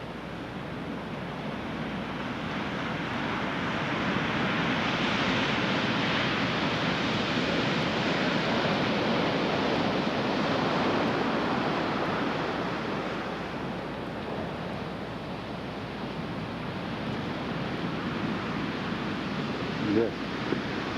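Waves of the Tasman Sea washing onto a New Zealand beach, a sustained loud surf roar that swells and eases over time, with wind buffeting the microphone and a brief knock near the end.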